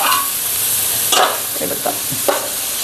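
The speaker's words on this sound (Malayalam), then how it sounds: "ഉപ്പിട്ട് കൊടുത്ത് ഇനി ഒന്ന് ഇളക്കി" Beef curry stirred in a pan after salt goes in, a steady sizzle with several loud scraping spoon strokes against the pan, close and without voices.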